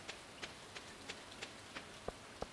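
Rain in the video game Stardew Valley, a faint soft patter with evenly spaced light ticks and no music.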